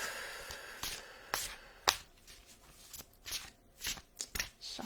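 Playing cards being shuffled, a faint series of quick riffling snaps and soft flicks in a quiet room.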